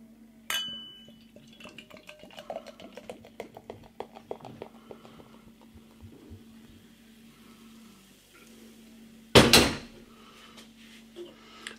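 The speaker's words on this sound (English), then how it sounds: "let's open up this Guinness" A bottle of Guinness Original Extra Stout is opened and poured, with a sharp cap pop, scattered light clinks of glass and bottle, then a loud burst of opening or pouring near the end.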